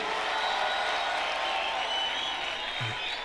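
Steady applause from a crowd at a college graduation ceremony, a continuous wash of clapping with no pauses, moderately distant.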